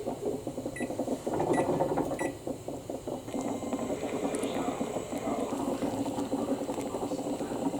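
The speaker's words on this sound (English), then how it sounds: "So we're gonna go ahead and bring this up to a boil and then boil it for 20 minutes" Strawberry-rhubarb jam bubbles at a rolling boil in a pot, a close, steady burble of thick popping bubbles with occasional light clinks, and no voices.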